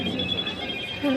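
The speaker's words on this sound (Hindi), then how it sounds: "ये मेरे अब्बू के मोबाइल का रिंगटोन है जो बोलता है ना हेलो मोटो" A Motorola mobile phone plays its "Hello Moto" ringtone, a fairly faint electronic melody with a rising tone near the end, under a murmur of background voices.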